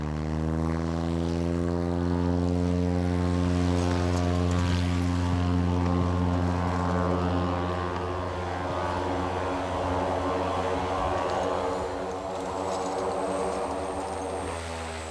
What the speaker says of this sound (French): Il reprend l'avion pour Talkeetna